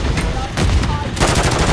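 An automated sentry gun in Call of Duty fires a loud, rapid burst of gunshots up close, dense and continuous, with a brief break midway before the fire resumes.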